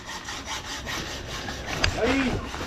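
Hand sawing a 9mm steel bar, a rebar stirrup for a beam, at a construction site: a repeated rasping back-and-forth stroke in steady rhythm, close and moderately loud, with a brief voice and clatter toward the end.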